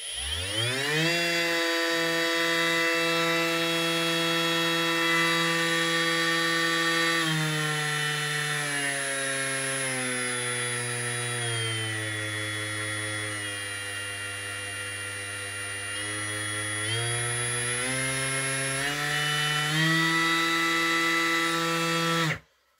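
A Bosch GSS 12V-13 cordless orbital sander runs continuously near the microphone, giving a loud, steady motor whine that holds for about twenty seconds, dips slightly in pitch midway, then cuts off abruptly, with no talking over it.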